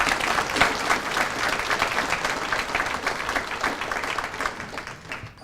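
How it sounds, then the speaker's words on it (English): Sustained audience applause at a technical college student success center ribbon cutting ceremony: a dense, steady wash of many hands clapping together, loud and unbroken, easing slightly toward the end. "A round of applause for all of them would be in order."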